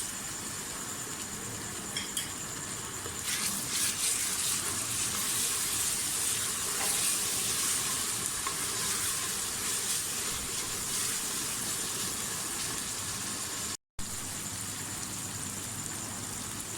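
Garlic, ginger and green chili paste frying in a pan after onions, a continuous hissing sizzle with crackles that swells louder a few seconds in and stays steady to the end.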